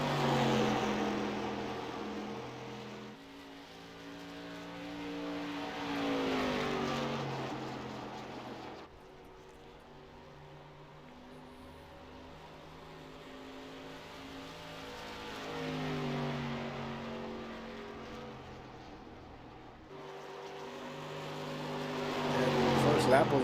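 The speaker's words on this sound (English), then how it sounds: "Next up is Benjamin Butler, starting his timed run here" Engine of an SK modified race car on a timed lap in a racing video game, revving rise and fall as it laps, mid-loud and steady with pitch sweeps through corners.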